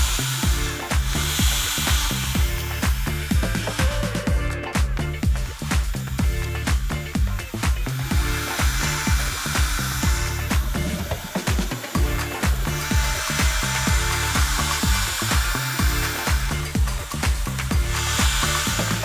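A LongMill CNC router carves a wooden photo sign, producing a loud, steady whirring cut with a dense rhythmic pulse that runs unbroken throughout.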